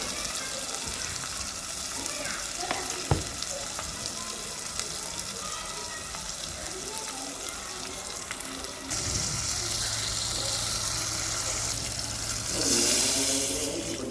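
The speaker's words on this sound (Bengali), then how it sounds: "পানি দিয়ে দেবো পরিমাণ মতো" Water is poured into a pot of lentils cooking with fried onion, garlic, tomato, salt and turmeric; a steady splashing pour starts partway through over a low background hiss, growing louder toward the end.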